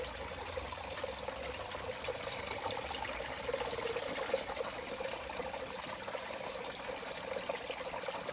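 A small indoor pet water fountain trickles softly and continuously in a quiet room, a faint steady dribble with no other sounds.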